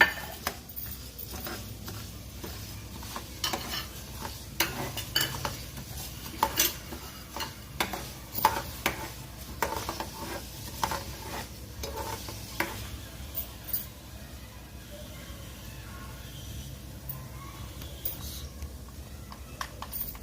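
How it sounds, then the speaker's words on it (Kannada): Mustard seeds splutter in hot oil in a kitchen pan. Quiet, scattered pops and crackles keep going unevenly for about twenty seconds over a low background hiss. "ನೋಡಿ ಸಾಸಿವೆ ಚಟಪಟ ಅಂತ ಇದೆ"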